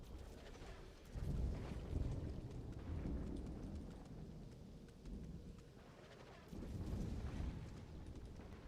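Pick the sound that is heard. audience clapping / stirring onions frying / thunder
thunder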